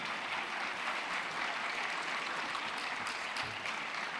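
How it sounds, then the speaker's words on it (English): Steady, dense applause from a conference audience, many hands clapping at an even level throughout, with no voices standing out. "Let's just give them a big round of applause so that they can come"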